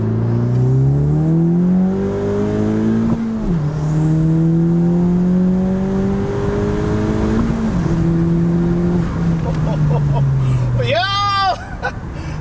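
A 10th-generation Honda Civic Si with a turbo inlet pipe revs hard through a second-gear pull. The engine pitch climbs in two long sweeps with a brief shift dip between them, loud and close, with voices cheering near the end.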